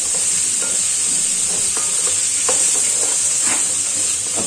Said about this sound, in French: Je mets mes carottes à revenir un petit peu.